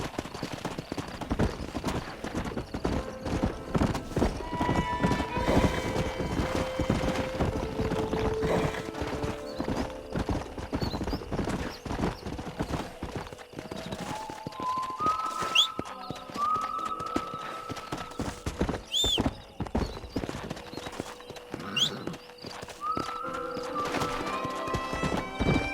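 Horses in the Western video game Red Dead Redemption gallop with steady, loud clip-clop hoofbeats and neigh repeatedly, set against a continuous game music score throughout.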